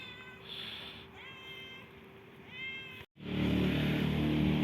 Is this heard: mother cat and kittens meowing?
yes